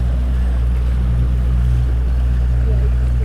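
Engine of the sailing yacht DHL Starlight running in Hobart, a steady low droning rumble, loud and continuous with water and wind noise around it.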